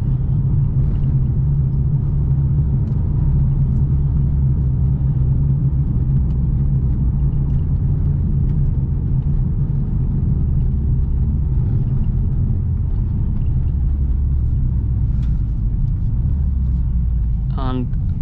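A 2021 Mercedes-AMG CLA 45 coupe cruising in comfort mode produces a steady low engine and road rumble from inside the cabin while someone talks over it the whole time.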